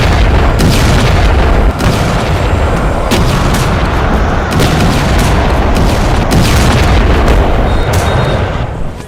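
Explosions from missile strikes on Iranian cities, a loud, continuous barrage of heavy booms and blasts with no pause, dense rumbling and cracking throughout.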